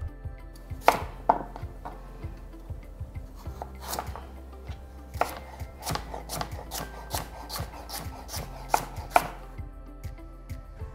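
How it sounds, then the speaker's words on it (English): A knife chops through carrot against a cutting board in quick, irregular taps, with occasional scraping in between; no talking. "For the carrot, I'm just gonna cut it into little coins."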